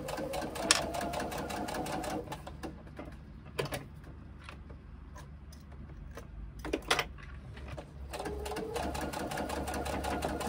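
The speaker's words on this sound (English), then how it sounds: "so that the machine can stitch flat" A sewing machine stitches fabric in fast, even bursts of mechanical clatter, with short pauses and light clicks between runs, close and steady.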